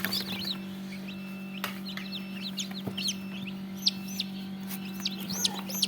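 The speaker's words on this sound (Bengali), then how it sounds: "এটি টাইগার মুরগির বাচ্চা নিবা?" Tiger breed chickens and chicks cluck and cheep steadily at a rural bird shop, the chicks' high peeping calls repeating over a constant low electrical hum.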